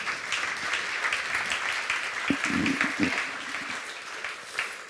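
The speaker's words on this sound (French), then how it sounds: "Merci Sophie, vous pouvez l'applaudir." Audience applauding after a startup pitch at an event, a steady wash of many hands clapping at moderate distance, swelling slightly mid-clip with a few louder nearby claps.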